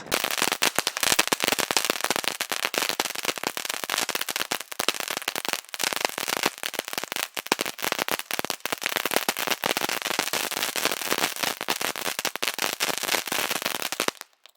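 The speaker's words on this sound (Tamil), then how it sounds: "ஆனால் வெடி பறக்க விட்டு வெடிக்கிறாரு" Dense, continuous crackling of firecrackers bursting in rapid succession at a Sivakasi fireworks shop in Tamil Nadu, loud and close for the whole stretch, with many sharp pops overlapping.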